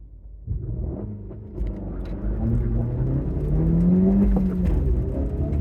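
A Honda Civic Si launches from an autocross start. Its engine rumbles low, then climbs in a rising rev as the car accelerates away, loud and close from inside the cabin.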